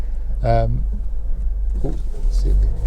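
A Honda CR-V 2.2 i-DTEC EX automatic with four-wheel drive is driven, its cabin filled with a steady, loud low rumble of engine and road noise while a person talks over it.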